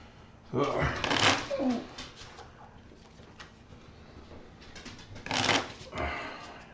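A deck of cards for the Rise of the Keyraken card game is shuffled in two bursts of riffling, one early and one later, each a quick papery flutter at close range with quiet pauses between.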